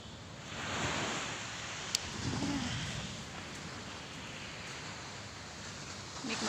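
Morning surf on an empty beach in Lombok, a broad steady wash of waves with wind buffeting the microphone, continuous and fairly soft.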